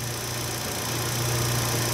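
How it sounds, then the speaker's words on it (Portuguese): Fiat Idea 1.4 engine idling smoothly after a service for misfiring and hard starting, a steady close-up hum with a constant low tone and faint mechanical whine, no voices. "Olha o funcionamento do motor, ó, perfeito."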